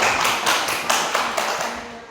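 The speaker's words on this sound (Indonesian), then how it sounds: "tepuk tangan untuk kelompok ini" A classroom of young students in a second-grade math lesson claps for a group, giving a short burst of fairly close applause that fades toward the end, with no talking.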